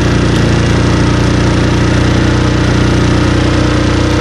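A freshly repaired Qingqi QM50 scooter engine idles steadily and close, a constant buzzing drone with its idle set slightly high, running alone without talk.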